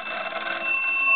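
The bells of a Western Electric wood wall telephone ring steadily and fairly loudly, with a rapid clangour that keeps going and grows a little stronger toward the end, and no voices.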